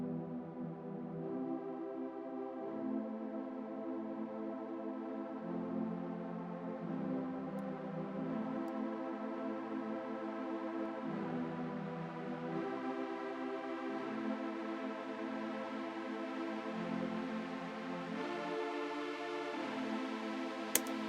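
OVox vocal harmony plugin driven by synth MIDI in a trance remix, giving steady layered synthetic voice chords that hold and shift pitch together, smooth and continuous with no speech.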